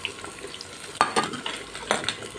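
Okra sautéing in a pan with onion, garlic and pepper, a soft continuous sizzle broken by a few sharp stirring scrapes and clinks of utensil against the pan, close and fairly quiet with no talking.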